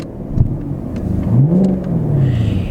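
A 2018 Ford Mustang GT or Chevy Camaro SS engine revs once from idle, rising and then settling into a steady mid-pitched rumble, heard close from inside a well-sound-deadened cabin with no one talking.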